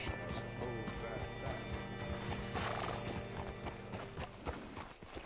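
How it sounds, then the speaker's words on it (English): Horse hooves clip-clop in a PS4 video game, a steady mid-level patter running through the clip beneath game music, mechanical clicks and a character's voice. "Hitch your horse up here."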